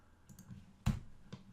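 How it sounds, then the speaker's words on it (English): Computer keyboard typing, a few faint scattered key clicks followed by one sharper, louder keystroke and a final light tap in a quiet room. "And get my typing right again."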